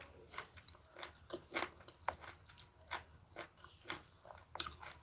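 Crunchy oyster mushrooms chewed close to the mouth, a steady run of crisp bites and wet crunches repeating every half second or so, fairly quiet with no talking.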